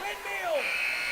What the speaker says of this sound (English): Buzzer sounds, final score